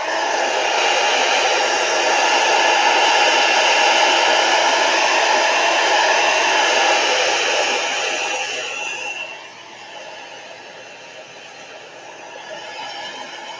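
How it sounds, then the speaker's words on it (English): A heat gun blows on a watercolor painting of a calla lily to clear off salt, a loud steady hiss of rushing air that drops to a softer level partway through and continues quietly. "I'm going to hit it with the heat gun for just a second, get the rest of that salt"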